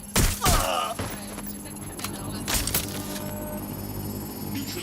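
Gunfire from a suspect in the Watch Dogs Legion video game, a few sharp cracking shots with thuds and ringing tails amid steady game ambience, loud and close at the start then more scattered.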